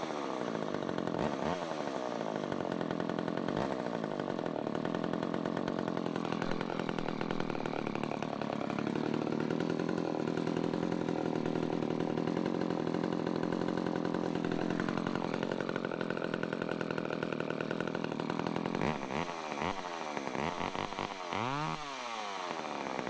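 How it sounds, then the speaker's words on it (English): A loud two-stroke chainsaw with no chain brake, being cleaned and adjusted, runs steadily after its choke is turned off, its engine tone shifting with throttle and blipping up and down near the end, close and alone. "Definitely a loud saw"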